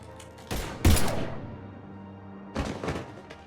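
Gunfire in Mass Effect 3, a few loud, close blasts with a heavy thump around the first second and another burst later, separated by quieter ambient hum and no talking.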